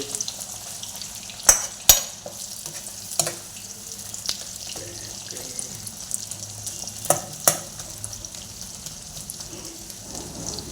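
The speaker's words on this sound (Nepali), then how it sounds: "मजाले प्याज पाक्नु पर्यो।" Onions frying in a pan for a village-style home-cooked vegetable dish, giving a steady soft sizzle with occasional louder clatters of stirring, close and alone without talk.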